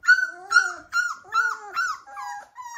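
A North American Mastiff puppy about two to three weeks old whimpers in a series of high, wavering whines, six or seven short cries in steady succession, close and clear with no talk over them.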